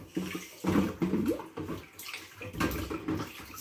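Dishes being washed by hand in a water-filled sink, with close sloshing and splashing water in irregular bursts, no talking.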